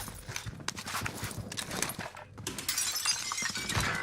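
Armor shatters in the Call of Duty Warzone video game, a brittle, glassy crunch of breaking amid busy gameplay clatter and quick thumping steps.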